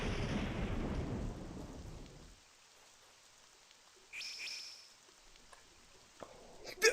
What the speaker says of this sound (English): Dang, it's really getting bad out here. Oh, lightning, too.